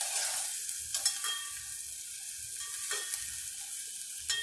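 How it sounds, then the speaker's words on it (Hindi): Sliced onions frying in a pan over a medium flame until golden brown, giving a steady close sizzle broken by occasional scraping stirs. "प्याज को आपको अच्छी तरह भून के लेने का, थोड़ा उसको गोल्डन ब्राउन करने का है प्याज को।"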